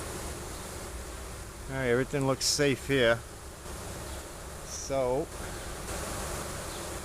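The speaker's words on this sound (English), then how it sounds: "A lot of bees, as you can see." Honey bees hum in a steady, dense drone during a hive inspection with the queen excluder removed, the buzzing continuing under a person speaking close by.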